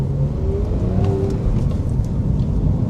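A Porsche 911 GTS with a 3.8 liter DFI engine runs on its initial shakedown, giving a loud, constant deep rumble up close without any voices.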